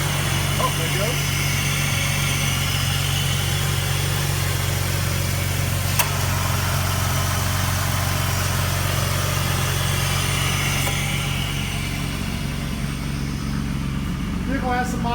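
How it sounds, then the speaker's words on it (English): The 3.7-liter engine of a 2004 Jeep Liberty idles with a steady, close, mid-pitched hum and vibration. A couple of faint clicks may be its AC compressor engaging. "The AC compressor might be bad. It just keeps engaging over and over again."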